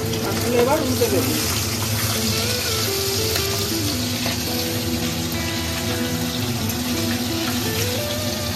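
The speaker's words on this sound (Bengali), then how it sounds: "তেলটা গরম হয়ে গেলে মাছগুলো সব ভেজে নেব।" Fish fry in hot oil with a dense, continuous sizzling hiss, fairly loud and close, steady throughout with faint clinks and murmurs in the background.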